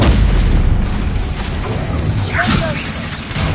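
Spell explosions from Bombarda and Confringo in the video game Hogwarts Legacy: a steady rumble of booming blasts and bursts, loud and dense, filling the scene with no spoken voice.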